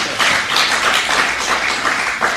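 An audience clapping at a recovery breakfast gathering, steady dense applause from many hands, loud and close, with no speech over it.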